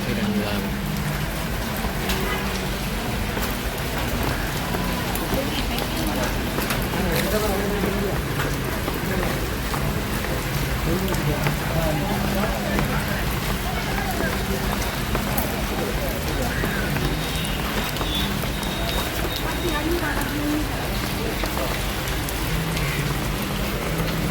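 Steady, heavy rain pattering on a surface in Jaffna, a dense continuous hiss with scattered drops that holds at a constant level throughout, close and without pause.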